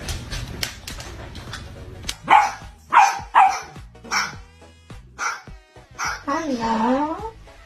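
Dogs barking in a series of sharp, fairly close bursts, with a longer whining or howling vocalization near the end.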